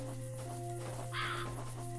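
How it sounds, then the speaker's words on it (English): A bird call in the video game Fran Bow, supposed to be an owl, comes as one short harsh caw-like cry standing out over a steady hum of background music. "Clearly, it's an owl."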